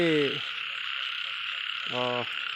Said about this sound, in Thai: จับกบได้อีกตัวหนึ่งแล้วนะครับ